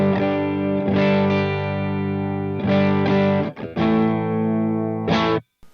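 A clean electric guitar through a Joyo Jackman amp's clean channel, no effects, rings out in sustained chords, with a few strummed changes and a brief pause before stopping near the end.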